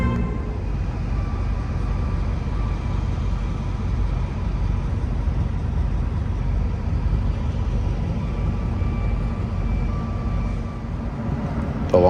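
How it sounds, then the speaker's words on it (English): A Long Island Rail Road MP15AC diesel locomotive idles on standby in a yard at Long Island City, a steady, even low rumble with a broad engine drone that holds constant throughout, with no voices. "The Long Island Railroad keeps this locomotive on standby, idling 24/7 just in case it needs to step in."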